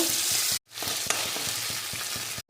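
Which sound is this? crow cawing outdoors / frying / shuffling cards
frying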